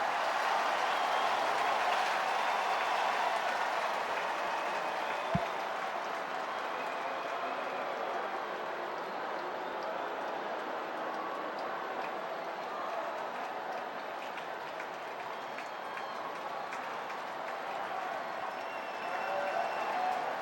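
A baseball stadium crowd at a Phillies vs Dodgers game cheers and applauds in a steady, continuous roar that swells again near the end, with commentary voices faintly beneath.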